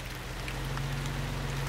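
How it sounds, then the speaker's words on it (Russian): Rain starts to fall in a cartoon village scene, a faint, even hiss of drops over a low steady hum, with no voices. "А теперь дождь пошел."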